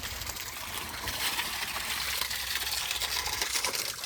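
Water flowing steadily from a tap or outlet in a village as friends drink, a continuous hissing trickle close by with faint background murmur.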